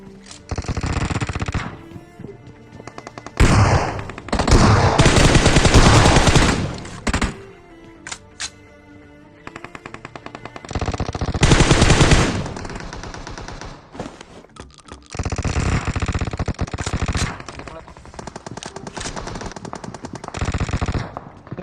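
In a battle royale video game, automatic weapons fire in repeated loud bursts with rapid rattling volleys and heavy thuds, separated by brief quieter gaps. There is no voice over the gunfire.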